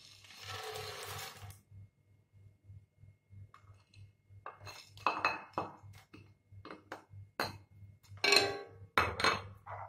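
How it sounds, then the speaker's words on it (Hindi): Peanuts tipped into melted sugar in a pan for peanut and sesame chikki, an initial hiss followed by irregular clattering and scraping against the metal over a steady low mechanical hum. "हमारी चीनी मेल्ट हो चुकी है, अब हम इसमें मूंगफली को डालेंगे।"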